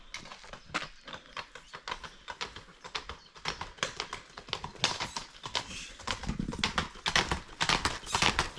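Horses kept by a woman rider in a rural village, hooves clip-clopping in a quick irregular patter close by, with faint bird calls in the background.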